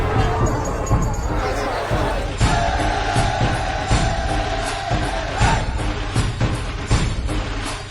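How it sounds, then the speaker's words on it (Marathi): A large crowd of devotees gathers at Raigad fort for the 352nd anniversary of Shivaji's coronation, making a dense, continuous roar of voices and cheering with rhythmic thumps and shouts throughout. "या खास सोहळ्यासाठी शिवप्रेमींनी रायगडावर मोठी गर्दी केली"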